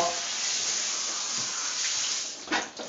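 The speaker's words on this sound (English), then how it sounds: "We run some water on it, clean it off." Tap water runs steadily over a kitchen knife blade as it is rinsed clean, a close, continuous hissing splash that swells briefly near the end.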